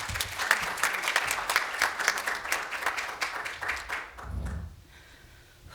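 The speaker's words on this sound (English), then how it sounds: "Big round of applause for Aki Smith." An audience at a Stanford health policy event applauds, with dense, even clapping that fades out after about four seconds into a quiet room.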